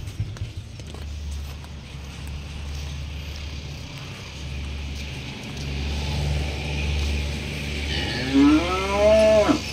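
Cattle mooing in a cowshed, a low steady lowing throughout, with a louder, closer moo rising near the end.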